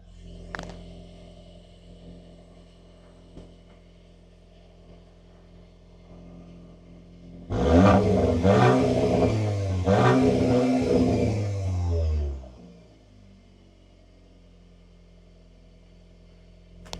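A turbocharged four-cylinder exhaust on a 2025 Audi S3 idles with a low steady rumble, then revs hard twice for several seconds, growling and popping, before settling back to idle.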